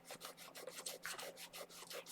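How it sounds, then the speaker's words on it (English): Brillo steel-wool pad rubbed back and forth over guitar frets on a Cort Ouija guitar, a quiet, rhythmic scratchy rasp with about a dozen quick strokes. "dress that a little bit with this Brillo pad"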